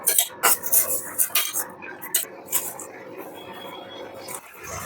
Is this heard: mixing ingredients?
yes